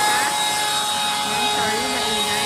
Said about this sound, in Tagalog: sorry, naingay ang blower